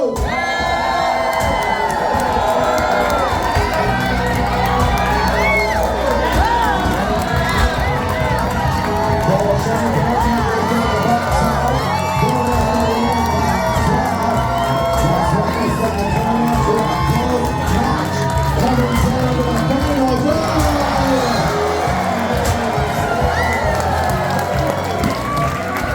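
Crowd cheering nonstop at a lumberjack chopping contest show in Alaska, loud sustained shouts, whoops and children's cries with scattered applause throughout, under an announcer's voice.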